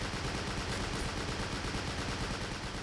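Dense, continuous gunfire and machine-gun bursts from a World War II Pacific airfield defense battle on Guadalcanal in the game Men of War: Assault Squad, a steady loud crackle with no pauses and no talk.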